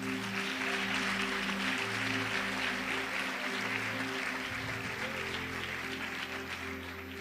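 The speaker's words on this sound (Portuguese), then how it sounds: "Dá um aplauso para Jesus." A church congregation applauds with a steady wash of clapping that goes on throughout, fairly distant and mixed with a low sustained hum of organ or keyboard tones.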